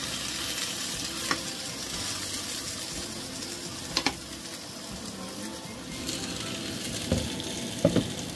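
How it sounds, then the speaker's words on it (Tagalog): Vegetables fry in a pan for chicken curry, a steady close sizzle with occasional clinks and stirring scrapes of a utensil, no voices. "ito piniprito ko yung mga gulay"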